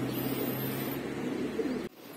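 Racing pigeons cooing at the loft as they arrive, a low, steady, close murmur that cuts off abruptly near the end.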